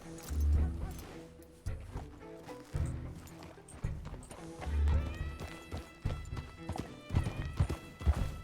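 A horse in the Red Dead Redemption game world (RedM roleplay), hooves clopping in uneven bursts while the horse gives a loud, close whinny over a bed of game music.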